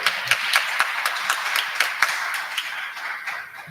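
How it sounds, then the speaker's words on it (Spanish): An audience at a church talk show gives steady, dense hand clapping. It holds at an even level for several seconds and then starts to thin out, with no talking over it. "Un aplauso por eso."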